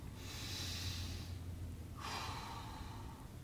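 Two deep breaths close by, a long airy inhale followed by a slower, softer exhale during a stretching routine, with no talking.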